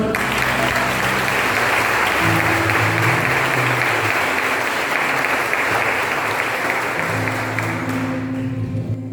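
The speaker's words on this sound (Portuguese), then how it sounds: "Pode aplaudir o Senhor." A church congregation at an evening worship service applauds in a dense, steady roar of clapping lasting throughout, with faint sustained keyboard tones underneath before the clapping tapers slightly at the end.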